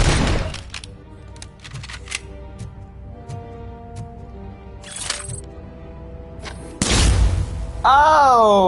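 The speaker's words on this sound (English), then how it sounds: "That's the flashbang." A flashbang grenade goes off in the video game RoboCop: Rogue City, a sudden loud burst after a stretch of sparse cracks and game sounds, followed by a ringing tone.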